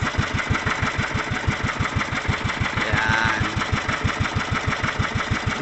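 A boat engine chugs steadily up close, its rapid regular thumping pulse running throughout with a constant mechanical drone.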